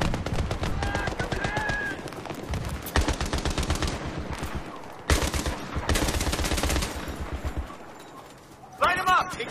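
Rapid automatic gunfire in a Battlefield 3 campaign firefight, loud bursts of machine-gun fire in several long volleys with brief pauses, mixed with distant shots and soldiers shouting.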